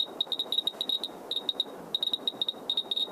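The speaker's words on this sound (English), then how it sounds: "Now, normal background radiation sounds like this." A radiation detector picks up normal background radiation, giving sparse, irregular ticks and clicks at moderate level with uneven gaps between them and no voices.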